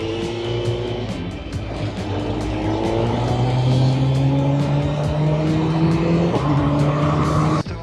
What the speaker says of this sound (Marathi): गाडी पण आपली मस्त हिटअप झालेली आहे आणि आता निघूया.